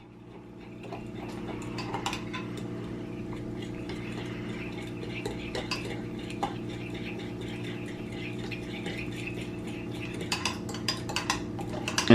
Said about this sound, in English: And you're going to follow that up by adding the flour. Okay, and I'm going to stir this in really well.